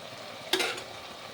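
Parwal and paneer curry frying in a pan, a steady soft sizzle with a brief scraping stir of a spatula midway, close and alone without talk.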